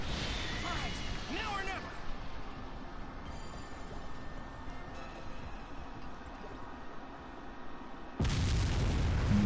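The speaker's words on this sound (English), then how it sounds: "Wow, I hit him with that spirit bomb from up above." A Spirit Bomb attack striking an opponent in Dragon Ball Xenoverse, heard as a sustained rumbling blast that swells into a heavy, loud impact near the end, with game effects layered underneath.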